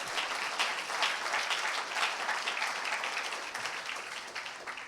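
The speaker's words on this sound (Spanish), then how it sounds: "Denle un fuerte aplauso al Señor." A church congregation applauding during a Spanish-language Christian service, dense continuous clapping filling the space at moderate level with no speech over it.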